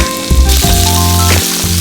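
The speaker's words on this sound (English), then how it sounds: "On high heat, add oil to pan. We're gonna sear our shrimp for 1 to 2 minutes." Shrimp searing in hot oil in a pan over high heat, a loud steady sizzle that runs the whole time with no talking.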